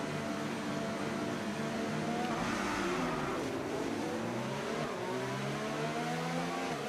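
F1 race car engine in the F1 25 video game on a formation lap, a loud sustained whine whose pitch rises and falls smoothly with throttle changes, heard alone without talk.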